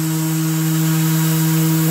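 An acrylic aquarium panel being wet sanded with a powered sander gives a loud, steady motor drone with a gritty hiss that runs unbroken from start to end, with no talking.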